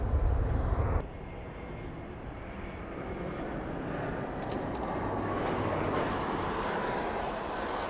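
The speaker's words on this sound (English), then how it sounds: "Got a plane coming in right there." An airliner comes in to land, heard from a rooftop as a steady, broad engine roar that swells gradually and holds, fairly distant and with no talking.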